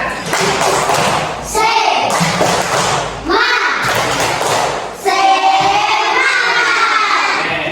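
Schoolchildren in a classroom perform a spirit clap, with bursts of loud clapping and shouting in rhythmic chant-like phrases separated by short pauses, the group close and energetic.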